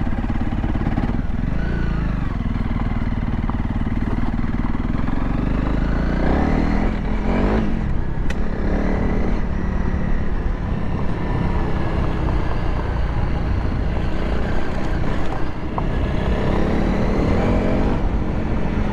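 Honda CRF 300 Rally motorcycle being ridden, a loud, continuous engine drone that rises and falls with throttle changes, heard close from the rider's position.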